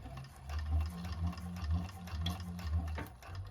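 A 1341 cylinder arm sewing machine stitching a bag, its motor running in a steady rapid needle rhythm, close and fairly quiet, slowing and stopping near the end.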